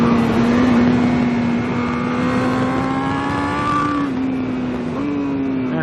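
A 2021 Honda CBR1000RR-R Fireblade SP revs hard at high speed on a race track, making a loud, sustained engine howl whose pitch climbs, with small dips near the gear changes.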